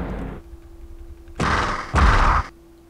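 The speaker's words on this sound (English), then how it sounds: "the explosion has its own set of collision boxes" Grenade explosions in a retro video game small enough to fit on a floppy disk: two loud, broadband synthetic blasts in quick succession, each lasting about half a second, following a brief low tone.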